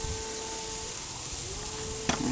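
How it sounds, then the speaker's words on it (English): Pork meat for tacos sizzles in a hot pan with a steady crackling hiss, a faint tonal hum beneath and a brief scrape or clatter near the end, with no voices. "Sizzling meat."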